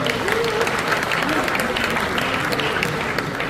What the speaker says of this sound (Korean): 우리 정치부 수고하셨는데 박수 한번 해주시기 바랍니다.